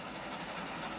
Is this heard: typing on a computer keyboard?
no